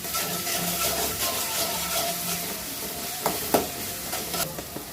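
Ginger garlic paste sizzles loudly in a hot pan while being stirred, a constant crackling fry with a couple of sharp scraping knocks from the spoon near the end.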